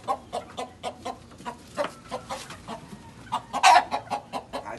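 A brooding hen clucks in a steady, agitated series of close, sharp calls while being lifted from her nest under a sheet, with one louder squawk near the end.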